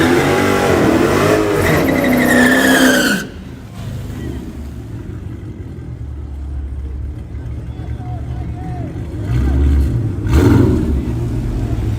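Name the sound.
Hellcat engine revving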